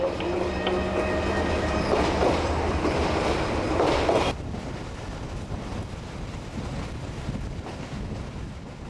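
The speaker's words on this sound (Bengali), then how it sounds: "এই সেই চট্টগ্রাম রেলওয়ে স্টেশন" A train rumbles steadily at Chittagong railway station in Bangladesh with clattering rail noise and some wind buffeting; the loud passing sound drops abruptly midway to a quieter, continuing rumble.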